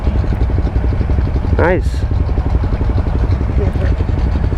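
A Honda CBR300R motorcycle idles nearby with a steady low, even rumble while people chat close over it.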